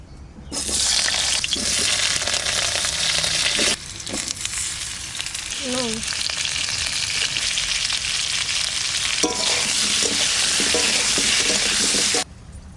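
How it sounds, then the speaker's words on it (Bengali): Loud, steady sizzling of potatoes frying in hot oil, with brief stirring scrapes and a short pause partway through. "আলুটা হালকা করে একটু ভেজে নিলাম"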